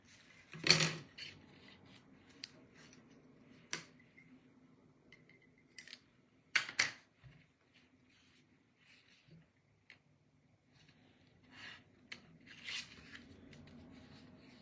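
A few short, crisp snips spread through the clip, like scissors cutting ribbon, with soft handling rustles between them in a quiet room.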